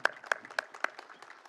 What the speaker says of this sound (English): So let's round of applause.